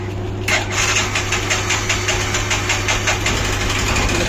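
A Bajaj CT BS6 motorcycle engine idles with a loud, steady running drone and a rapid metallic piston knock ticking through it, close up and with no talk over it.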